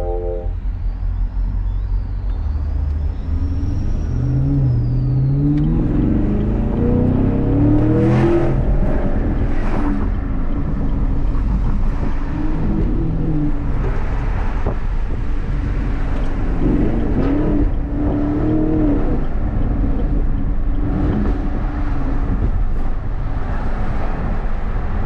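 Chevrolet Camaro SS with about 25,000 miles being driven, its engine giving a steady close drone with rising and falling revs as it accelerates and shifts, loud throughout.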